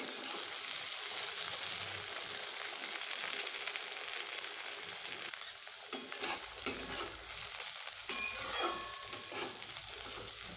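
Okra frying with poppy seeds in a pan gives a steady bright sizzle throughout, with scraping stirs and clinks from the utensil growing busier in the second half, close and moderately loud.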